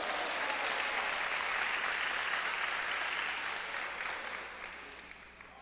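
A church congregation applauds during a Portuguese-language worship service, a steady wash of many hands clapping that gradually fades toward the end.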